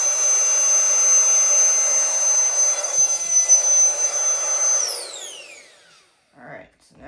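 A small electric pump sucks air out of a travel vacuum bag, running with a loud steady high-pitched whine that rises as the bag empties, then cuts off, followed by brief handling noises.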